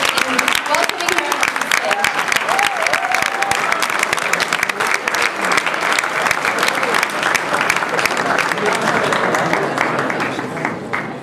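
An audience applauds to welcome a speaker at a presentation on the Iranian Nationality Room, with dense sustained clapping that runs loud for about eleven seconds before easing slightly at the end, with some voices mixed in.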